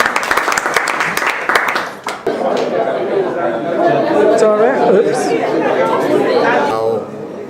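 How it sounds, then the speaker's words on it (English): An audience at a televised news event applauds, a broad wash of clapping mixed with crowd chatter that carries on steadily near the microphone. "A round of applause for Ms. Brenda."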